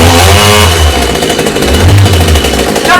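A chainsaw engine runs loud and close indoors, rattling roughly with uneven pulsing throttle and a harsh buzzing tone throughout, no voices over it.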